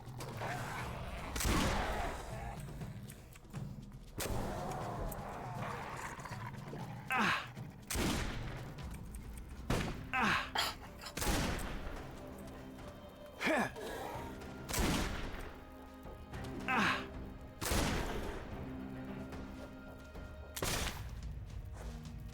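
Gunfire in the video game Risen, repeated bursts of shots in uneven clusters across the stretch, fairly loud and close, with occasional breathy vocal sounds between volleys.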